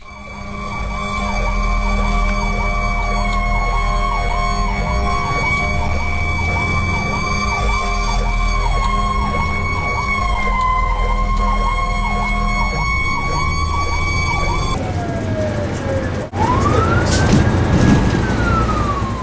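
A loud police emergency siren wails steadily over a rumbling engine while driving through traffic, then shifts into a sweeping rising and falling tone near the end.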